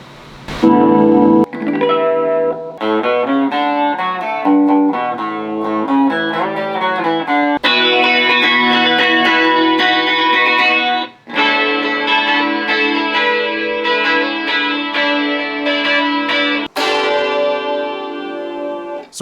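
A matte black Rickenbacker 330/12 twelve-string electric guitar plays ringing, chiming riffs and strummed chords through a small Vox Mini 5 practice amp, loud and continuous, with a bright, shimmering, effects-laden tone and no talking.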